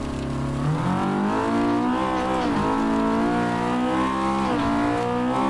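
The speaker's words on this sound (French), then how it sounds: "Oh, le moteur, il est bien rageur" A Honda K20 2-litre engine in a ProPulsion S2 Junior race car revs hard in Assetto Corsa. The engine note climbs through the gears with sharp drops at each shift, loud and close throughout.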